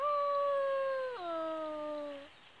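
A single wolf howl rises and holds a long, clear mournful tone, then drops in pitch midway and trails off after about two seconds, heard alone and fairly distant.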